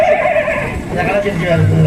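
A stage performer in a village folk drama imitates a horse's neigh with his voice, a loud, wavering whinny that rises and then falls off. He calls it out close and alone.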